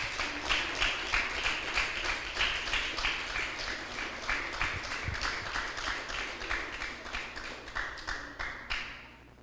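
Church congregation applauding after a sermon line, a steady run of rhythmic clapping with sharp repeated hand claps that holds throughout, fairly even in level, with faint voices underneath and a brief thinning near the end.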